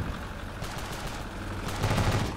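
Gunfire in the video game Ravenfield, a dense continuous rattle of shots that swells louder toward the end, with no talking.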